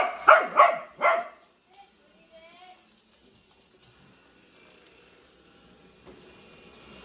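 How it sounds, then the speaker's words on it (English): A corgi barking at a robot vacuum indoors, three quick loud close barks followed by faint whining and soft machine hum in the background. "Stitch, stop barking, okay?"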